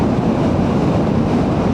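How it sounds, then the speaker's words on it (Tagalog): Strong wind roars and buffets continuously, a loud low rushing of wind hitting a rider on a DJI Lito X1 motorcycle on a winding road in Atimonan, Quezon, with no voices. "Lakas ng hangin na sumasalubong sa atin."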